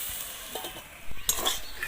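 Bitter gourd and potato slices frying on very low heat in a covered pan, giving a faint, steady sizzle with brief stirring scrapes and clatter toward the end, no voices.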